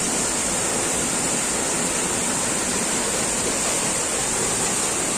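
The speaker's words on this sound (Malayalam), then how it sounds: "ആ വള്ളം ചാടുന്ന ശക്തി നോക്കി എന്തൊരു ഒച്ചയെന്നറിയോ" A steady, powerful roar of falling water from a waterfall fills the air, a dense, unbroken rush with no voices.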